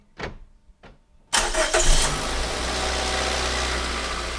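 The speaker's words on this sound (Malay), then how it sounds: "Okey, kita hidupkan enjin." A starter cranks briefly twice, then a Perodua Myvi engine catches and settles into a steady, loud idle that continues to the end.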